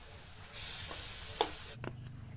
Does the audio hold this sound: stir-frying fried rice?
yes